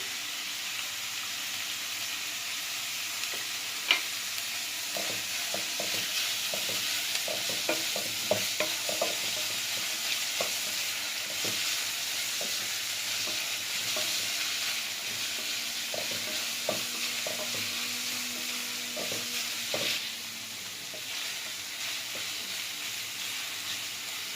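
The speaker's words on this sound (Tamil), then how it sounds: "வெங்காயம் ஓரளவு வதங்கிடுச்சு." Onions sautéing in a little oil with salt, a steady soft sizzle and hiss with occasional light clicks of a spoon stirring, close and continuous throughout.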